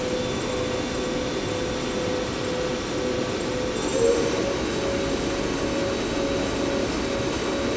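Spindle of a Hyundai-WIA L400C CNC turning center spinning at around 1200 RPM, giving a steady mechanical hum and whine with a faint tonal ring, close and continuous.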